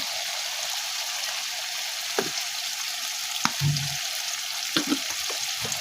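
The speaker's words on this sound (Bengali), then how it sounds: "লাল শাক বসাই দিলাম মশলাগুলো দিয়ে এখন কষিয়ে নিচ্ছি" Red amaranth greens sauté with spices in a pan, with snakehead fish and green banana set aside, producing a soft constant sizzle and a few sharp utensil clinks and scrapes, near and unaccompanied by speech.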